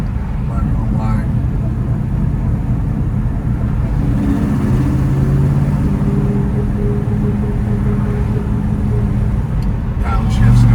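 A restored 1971 Dodge Dart 340 with a four-speed manual and ceramic coated headers rumbles loudly and steadily, its engine note shifting pitch as it downshifts, with a voice talking over it.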